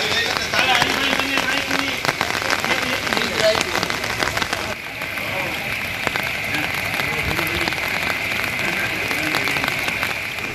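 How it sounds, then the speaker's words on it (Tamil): Heavy rain pours during floods in Porbandar and Rajkot, Gujarat, a dense, loud, steady hiss and patter of water filling the whole stretch with scattered sharper splashes, shifting slightly in tone midway. "குஜராத்தில் போர்பந்தர் ராஜ்கோட் உள்ளிட்ட பகுதிகளில் கனமழை பெய்தது."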